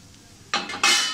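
Grated fresh coconut is dry-roasted in a pan for a yam masala bhaji, with short bursts of scraping and rustling as it is stirred, loud and close after a quiet start.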